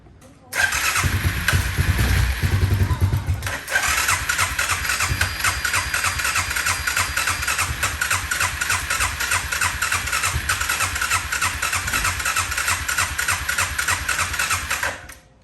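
Suzuki Quad Runner 500 ATV engine cranking on its electric starter, a loud close whirring churn after a brief rough burst, running steadily without catching for over ten seconds, with faint voices at the start.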